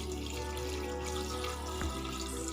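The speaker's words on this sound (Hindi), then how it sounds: "ये लीजिए, हम पानी इसमें शामिल करते चले जा रहे हैं।" Water is poured from a stream into a pressure cooker holding raw beef, a steady close splashing rush over a low background hum, with one brief clunk near the end.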